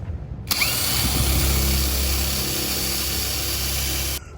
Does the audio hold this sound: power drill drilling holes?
yes